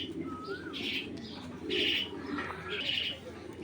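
Pigeons, racing birds including a strong pipe hen, coo softly in a loft, with a few chirps and brief wing flutters mixed in against steady background noise.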